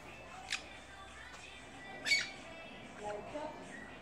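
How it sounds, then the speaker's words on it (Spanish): A perico parakeet gives two short, sharp squawks several seconds apart, followed by a few softer chirps, faint against quiet outdoor background noise. "Así es, mi gente, el perico,"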